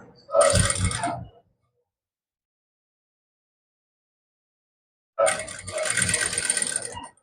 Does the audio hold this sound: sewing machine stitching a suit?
yes